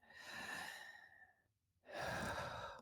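Slow, deep breathing as a calming exercise: a long, soft inhale, a short quiet pause, then a full airy exhale, heard close and alone without talk.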